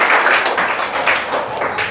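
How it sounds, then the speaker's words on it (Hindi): Classroom of students clapping hands together during a lesson, a dense, steady patter of many claps that runs throughout at close range. "ताली बजाओ जी।"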